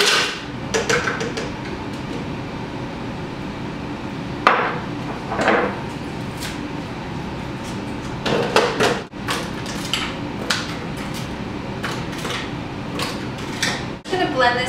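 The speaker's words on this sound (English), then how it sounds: "put the ice cubes into our ninja" Almond milk ice cubes clatter into a Ninja blender jar in a home kitchen, a series of sharp knocks and rattles scattered across the stretch, with a voice talking between them.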